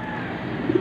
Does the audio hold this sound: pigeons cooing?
yes